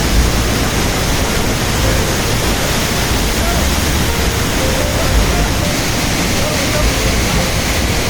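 Arimpuli waterfall at Kanthalloor, Munnar, Kerala, roaring as a steady, loud, unbroken rush of falling water that fills the whole scene.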